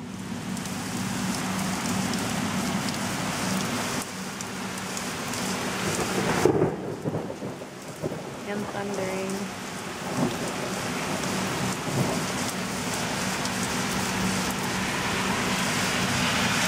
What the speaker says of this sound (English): It was just sunny a few minutes ago and now it's downpouring outside.